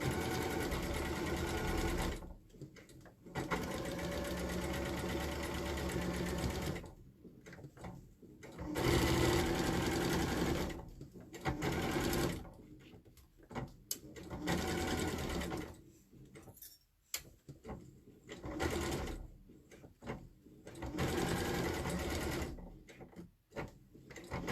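A sewing machine stitching a seam on a temperature quilt, running in several loud, close bursts of rapid whirring with short pauses between runs, no talking.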